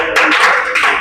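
A group of children clap their hands together in a classroom, a dense, overlapping burst of claps that starts abruptly and carries on for about a second, fairly loud and close.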